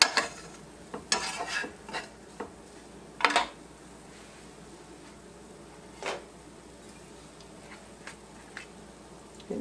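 A flour and oil roux is stirred in a pot, giving scattered scraping and knocking of the utensil against the pot over a faint background, close and intermittent.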